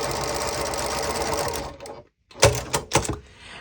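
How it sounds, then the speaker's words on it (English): A sewing machine stitching fabric at a quarter-inch seam runs in a fast steady whir, stops briefly, then stutters through a few short bursts as it backstitches. "I'm sewing at in between a scant and a 1/4 inch."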